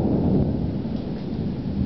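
Thunder from an early-morning lightning storm with hail, a loud, deep rolling rumble sustained across the moment, with a faint rustle of weather around it.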